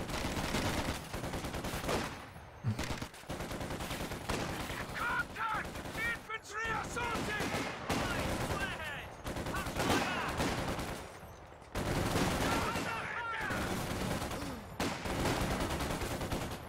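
Vickers heavy machine gun fire in Company of Heroes 2, dense rattling bursts and battle noise filling the scene with brief gaps, with a commentator talking over it.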